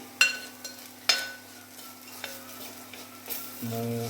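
Spice powders frying in a pan for a Kochi-style fish curry, stirred with a few sharp utensil clicks against the pan over a soft sizzle, ending in a low steady hum.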